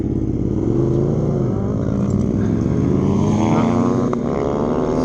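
A Zero SR electric motorcycle racing up a hill climb whines continuously, its pitch sliding up and down as it accelerates, steady and loud under rushing wind noise.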